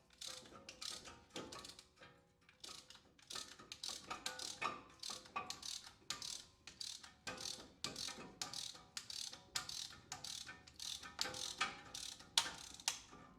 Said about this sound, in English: So now we're just going to basically keep ratcheting those pistons shut.